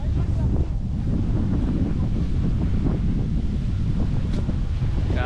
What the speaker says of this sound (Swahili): Oh, mnasikia upepo huo.